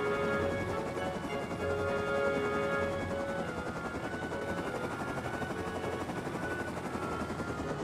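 A helicopter in the video game Rust flies with a steady, loud rotor thrum and whine that holds constant throughout, with no talk over it.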